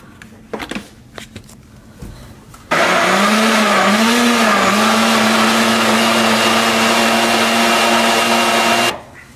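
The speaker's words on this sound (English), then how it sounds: "We're gonna blend it." A blender purees salsa ingredients, roaring loud and steady for about six seconds after a few light knocks, then cutting off abruptly.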